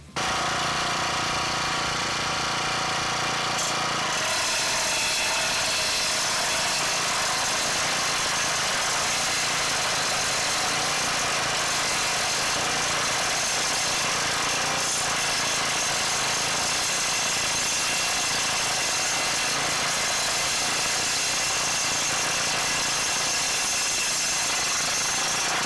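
A Powermate lawn edger engine runs loud and steady as its blade cuts straight down along a driveway edge, a harsh continuous buzzing roar that starts abruptly after a few quieter seconds, with no voices.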